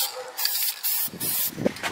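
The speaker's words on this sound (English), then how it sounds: "got the black spray paint, just painting the lip right now." A can of black spray paint hisses in several short, sharp bursts with brief pauses between them, close and fairly loud, painting a wheel lip.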